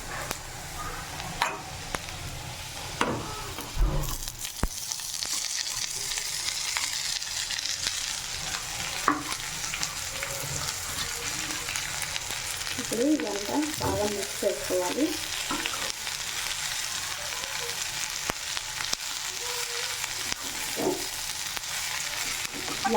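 Drumstick leaves and onions fry in an open pan with a continuous close sizzle, broken by occasional scraping stirs and light clatter of a utensil, no voices.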